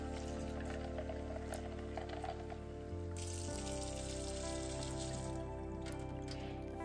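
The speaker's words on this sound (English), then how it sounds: "And then I fill it up with some water." Water pours from a tap into a stadium cup holding about four ice cubes, a continuous trickling fill whose tone shifts partway through, close and fairly quiet with no talking.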